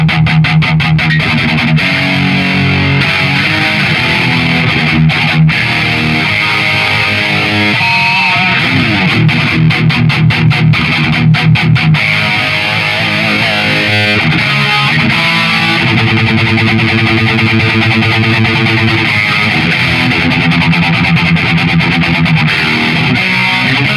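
Electric guitar runs through a Solar Guitars Chug distortion pedal, dense, heavily distorted metal riffing with chugging palm-muted chords and some sustained notes, loud and continuous for the whole stretch.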